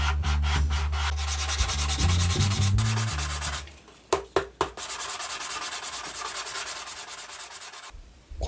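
Steady, continuous rasping of sandpaper rubbing against a plastic filament figure made with a 3D pen, close and fairly loud, with a low Dremel motor hum early on and a few brief knocks midway.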